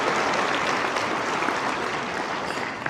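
A dense burst of audience clapping at an agricultural awards gala, sustained and even throughout before tapering slightly at the end.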